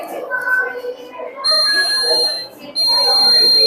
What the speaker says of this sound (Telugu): Night driving చేసేటప్పుడు నిద్రపోయినామంటే ఎమ్మటే బజర్ మోగుతుంది.